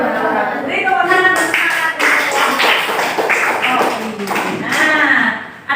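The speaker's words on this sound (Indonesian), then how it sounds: "Beri tepuk tangan" A classroom group of teachers in training claps after a group presentation, scattered uneven hand claps and taps close by, mixed with voices talking throughout.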